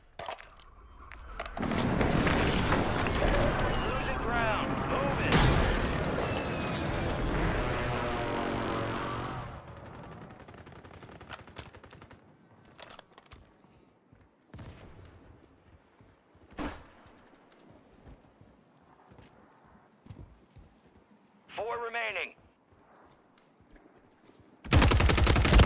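Sniper gunfire in the video game Call of Duty Warzone: a loud, dense burst of shots and blasts runs for several seconds, then gives way to scattered sharp cracks and thuds across quieter, near-silent stretches, with a final loud hit.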